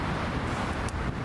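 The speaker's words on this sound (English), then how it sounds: "Yeah, it's pretty windy out." Strong wind of about 40 km/h roars and buffets the microphone outdoors near a dam, a loud, constant rumbling gust with no letup.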